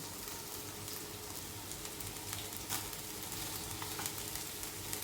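Cooked rice is stirred into a sweet coconut filling in a pan over a low flame, with a soft continuous sizzle broken by light scraping and stirring knocks, close and fairly quiet, with no talk.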